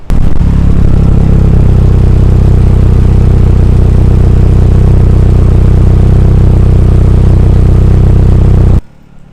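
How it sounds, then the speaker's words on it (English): An Opel Astra SRi turbo of about 300 hp, fitted with a fully decatted Milltek exhaust, idles loudly and up close on a cold start, a steady rough drone that cuts off abruptly near the end. "So the car's just on cold start at the minute."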